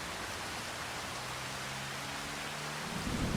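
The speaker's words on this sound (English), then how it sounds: "It's raining." Rain falls as a dense, even hiss in Farming Simulator 25, with a low rumble of thunder building beneath it and swelling louder near the end.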